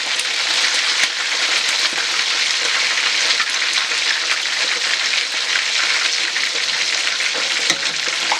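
Fish sauce fries in hot oil with a dense, steady sizzle and crackle, loud and close, continuing without pause.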